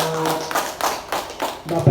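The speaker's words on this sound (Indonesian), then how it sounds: "tepuk tangannya." Clapping from an audience of teachers at a school socialisation event, several rhythmic bursts of hand claps mixed with voices.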